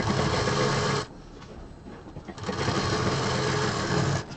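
A sewing machine stitches a 22-inch belt onto a handbag with a steady, close mechanical hum. It stops briefly in the middle, then runs again.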